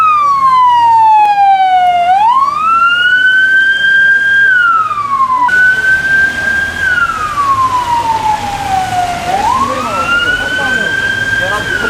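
A loud ambulance siren wails up and down in long sweeping tones, close by, over road noise, at a crash scene in Ereğli, Turkey.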